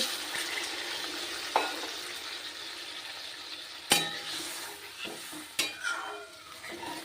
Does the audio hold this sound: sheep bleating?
no